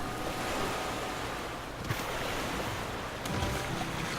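Rushing river water in the survival game The Flame in the Flood: a broad, steady wash of flowing water and surf-like noise, continuous and moderately loud with small splashes, no speech.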